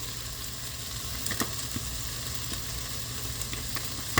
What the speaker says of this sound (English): I'm going to have to give this a mix before adding more.